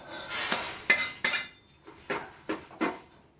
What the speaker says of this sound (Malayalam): ഇനി നമുക്ക് ഇതിങ്ങോട്ട് ഒരു പാത്രത്തിലേക്ക് ഇങ്ങനെ മാറ്റി കൊടുക്കാം